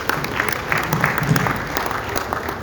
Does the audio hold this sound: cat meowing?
no